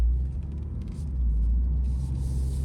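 A Toyota GR86 engine drones low and steady with rising rumble as the car speeds up to about 70 in regular mode, heard from inside the cabin.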